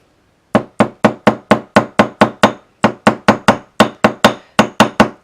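Wire earring hooks struck with a jewellery hammer: about twenty sharp, loud metallic taps in quick, even bursts, a short pause partway through, close by with no talk.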